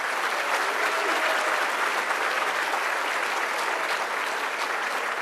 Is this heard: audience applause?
yes